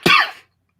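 A single short, sharp cough, close and loud, from a man with a cold, followed by silence.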